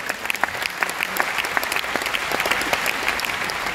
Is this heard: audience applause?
yes